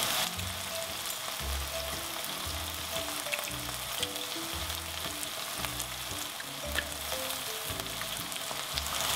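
Onions and garlic fry in oil in a pan for beef chow mein, giving a close, steady sizzle with rhythmic scraping and stirring strokes through it, and no talk.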